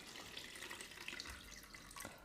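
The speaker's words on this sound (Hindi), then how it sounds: "अब यहाँ पर हम इसका पानी रिमूव कर देंगे" Soaking water is drained off soaked food at a kitchen sink, a faint running, splashing flow with a few small drips, with no voices.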